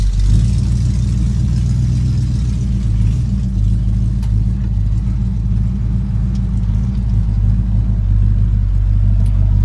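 A malfunctioning air conditioner runs close by with a loud, steady low mechanical drone and rumble that holds throughout, alone with no talk.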